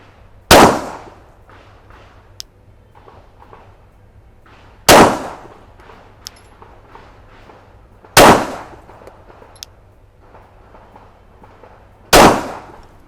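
Four loud, sharp Glock 17 pistol shots fired at a target on an indoor range, spaced several seconds apart, each with a short ringing decay and faint clicks between shots.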